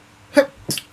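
A short sneeze from a person during a live discussion, close and brief, followed by another quick burst of breath sound.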